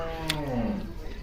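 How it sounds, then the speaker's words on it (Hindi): A buffalo that calved a day or two earlier lets out a single long, low, drawn-out moo at a family home, heard up close over faint background sound. "भैंस"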